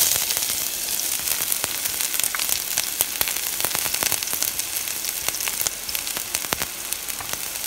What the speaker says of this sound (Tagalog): next natin gagawin ay igigisa na natin ang sibuyas